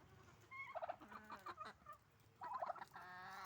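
A male ornamental turkey gobbles twice in quick bursts, rattling warbled calls close by with a short pause between them, no talking.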